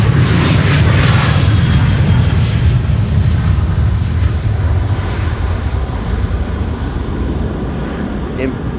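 A KLM Boeing 737 departs Schiphol's Polderbaan runway, a loud, close jet roar strongest at first and slowly thinning as it climbs away, with wind buffeting the microphone throughout.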